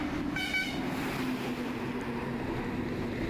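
A train runs along the tracks with a continuous heavy rumble throughout, and a short horn toot sounds near the start.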